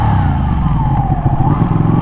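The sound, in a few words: motorcycle riding off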